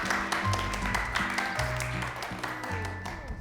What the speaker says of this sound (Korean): 박수 한 번 더 크게 해주실까요?